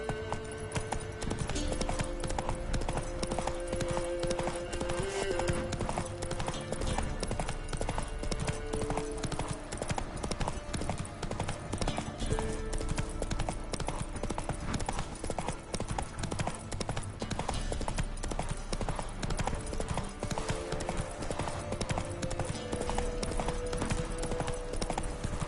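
Hooves of Roach, a horse in a video game, clip-clop in a steady continuous rhythm for the whole stretch, loud and close, with game music and ambience running underneath and an occasional whinny.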